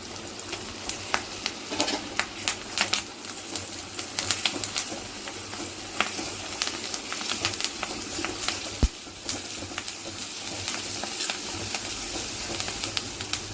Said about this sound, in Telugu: ఇదిగోండి అల్లం వెల్లుల్లి పేస్ట్ కూడా చక్కగా వేగిపోయింది